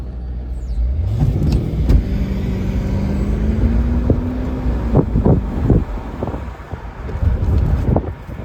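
A Mercedes CLK 550 Cabriolet engine gives a short throttle blip, its pitch rising and falling over a couple of seconds. Steady road and wind rumble surround it, with scattered knocks and bumps afterward.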